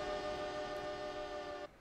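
A modern train in an Unreal Engine 5 game, its Doppler-shifted horn holding a steady, rich tone for almost two seconds before cutting off abruptly. No one speaks.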